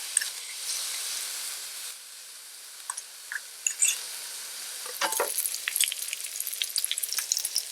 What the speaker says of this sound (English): I'm going to start by frying up some bacon.